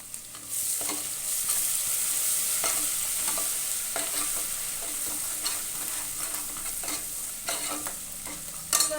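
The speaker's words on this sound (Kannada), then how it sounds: "ಹಸಿಮೆಣಸಿನ್ಕಾಯಿ ಪೇಸ್ಟ್ ಹಾಕ್ತಾ ಇದ್ದೀನಿ" Green chili paste sizzling in a hot pan for dal khichdi, a steady bright hiss broken by repeated scraping clicks of a spoon stirring against the pan, close and without talk.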